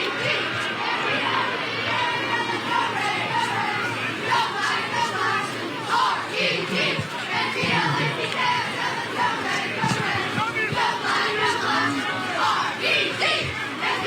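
Crowd at a high school football playoff game between Steubenville Big Red and Columbus East cheering and shouting continuously, a dense roar of many voices with chants and yells rising and falling throughout.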